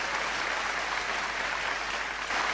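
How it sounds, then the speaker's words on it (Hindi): Audience applause at a Hindi comic poetry gathering, a steady, dense wash of clapping from a large crowd that holds at even loudness throughout with no voices on top. "तालियां जोरदार वाली बजाओ एक बार जरा"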